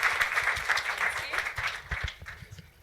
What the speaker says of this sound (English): So give them all a huge round of applause.